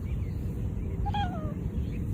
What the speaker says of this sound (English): Little baby kitties.